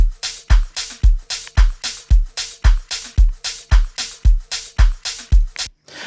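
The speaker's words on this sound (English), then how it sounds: "I used a drum loop from my sample pack" Amapiano drum loop from the Amapiano Essentials Sample Pack 2, with repeated punchy log-drum-style kicks and crisp hi-hat and shaker hits on a steady, bouncy rhythm, loud and close, stopping abruptly at the end.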